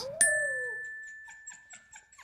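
A wolfdog gives a short, rising howl lasting under a second, fairly close, followed by a sustained high electronic tone and a few faint clicks.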